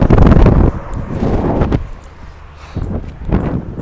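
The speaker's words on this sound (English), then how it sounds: "it is beautiful today. Warm, very windy." Strong gusts of wind buffet the microphone outdoors on a warm, very windy afternoon in Saskatoon, Saskatchewan, loud at first, easing, then gusting again, with no talking.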